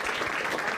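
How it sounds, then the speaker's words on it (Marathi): A stand-up comedy crowd gives a brief round of applause, a steady patter of many hands at moderate loudness for under a second. "एकदा टाळ्या वाजवा दोघांसाठी"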